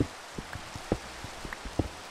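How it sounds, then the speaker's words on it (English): Rain falls in a video game as scattered, soft individual drips and taps at an irregular pace, faint and fairly close, with no talking over it. "And it's raining. Rain. Hallelujah. It's raining rain."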